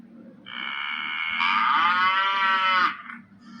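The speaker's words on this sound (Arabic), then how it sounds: "cow" A cow gives a single long, loud moo that rises in pitch midway and then cuts off, heard close and alone over a faint low hum.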